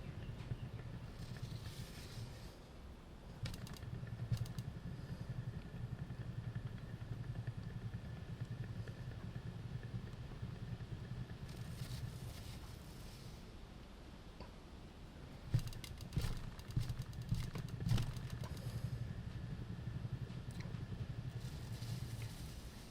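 A paint spinner whirls a board coated in acrylic paint with interference pigments, giving a steady, close motor hum with occasional rattles and clatter partway through, and no speech.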